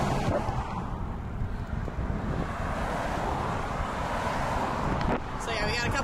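Heavy road traffic streams past a wide-shouldered coastal highway cycling route in Washington State, a continuous loud roar of passing vehicles mixed with wind buffeting the microphone.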